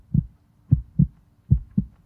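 Heartbeat simulator in the Jeff the Killer horror video game: muffled, deep thumping beats in close double pairs, heard alone and fairly loud against near silence.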